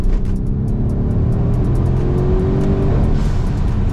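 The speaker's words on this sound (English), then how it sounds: "pops and bangs. Yeah, popping and banging. Oh, you get the blow-off valve." A Mercedes GLC 63 S AMG engine drones loudly and rises in pitch, then lifts off. Rapid sharp pops and crackles ride over the revs nearby, and no voices are heard.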